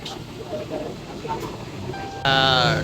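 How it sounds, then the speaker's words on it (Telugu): A local train rumbles steadily, a dense mechanical roar, and a loud horn-like tone cuts in near the end. "లోకల్ ట్రైన్ ఒకటి చూడండి"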